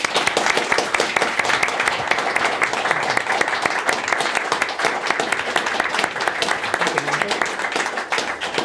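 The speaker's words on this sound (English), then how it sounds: "So please give a big round of applause for John." Audience applause for John Rimmer at a pre-concert talk in Palmerston North: dense, steady clapping from a crowd, loud and continuous for the whole stretch.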